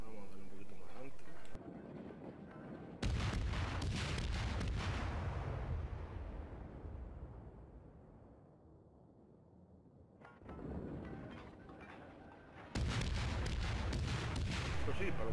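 Heavy naval cannon salvos from a British cruiser, the Weymouth, in World of Warships, loud booming bursts with long rumbling decays, a quieter lull in the middle, then more blasts near the end.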